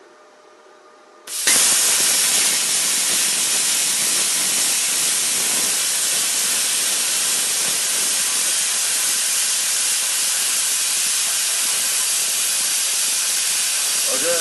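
A Scheppach PLC40 plasma cutter cuts metal with a steady, loud hiss that starts abruptly and holds constant throughout.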